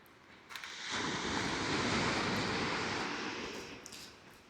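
Surf breaking on a small beach beside a campsite on the Eyre Peninsula near Cape Bauer, a single wave swelling up after a quiet start, washing for several seconds and then slowly fading, heard from some distance with wind.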